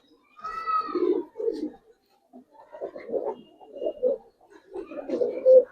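Giribaz coloring pigeons, an expensive breed, coo in repeated low soft bursts nearby, with a few brief pauses between calls and no speech over them.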